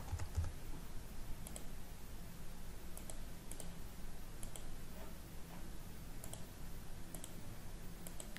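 Steady clicking of keys on a computer keyboard as comments are typed into a survey form in BMC Remedyforce, quiet and continuous with no voices.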